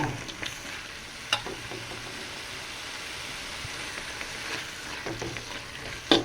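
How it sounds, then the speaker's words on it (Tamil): Chicken frying in a pan with whole shallots and tomato for a chicken gravy, giving a steady soft sizzle with a few sharper stirring clicks, close and fairly quiet, with no talking. "இப்போ சிக்கன் போட போகிறோம் சிக்கன் போட்டாச்சு"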